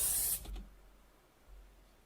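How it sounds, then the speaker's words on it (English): A short burst of cooking spray hisses onto food in a pan for a fried egg, loud and close, then cuts off quickly into quiet kitchen room tone. "Did she spray Pam on the food?"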